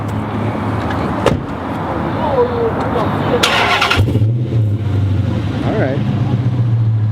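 A 5.7 Hemi V8 fitted with 6.1 headers and Flowmaster mufflers rumbles steadily at close range, with a low droning exhaust tone running under people talking throughout.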